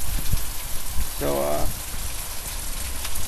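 Heavy rain hisses steadily and loudly during an Arkansas flooding storm, with a brief voice heard partway through.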